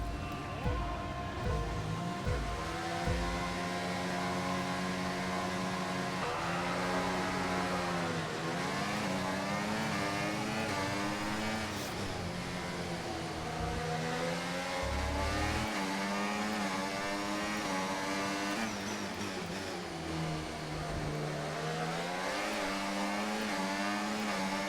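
Race car engines roar continuously through a lap of the Azerbaijan Grand Prix in the F1 24 video game, with rising and falling pitch through gear shifts and loud revving throughout.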